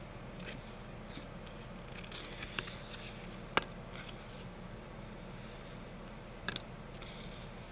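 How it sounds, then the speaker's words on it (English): Song cards are shuffled quietly, giving soft patter and scattered light clicks and ticks, with one sharper snap midway, over a steady low background hum. "I'm shuffling my song cards right now."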